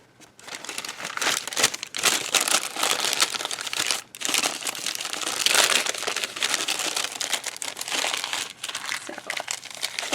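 Mystery box packaging folded back up, producing a loud, continuous crinkling and crumpling of paper and cardboard right up close, with brief dips in between.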